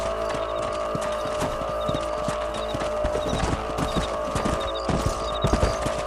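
Several horses ride at a brisk gait in Red Dead Redemption, with dense, continuous clip-clopping hooves close by over a steady background hum and a faint repeating chirp.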